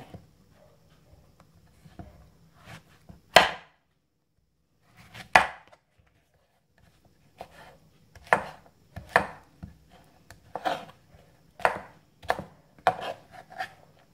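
Bottle gourd being chopped into squares with a knife on a board, a series of sharp, close, uneven knocks, some single and some in quick clusters, with quiet pauses between.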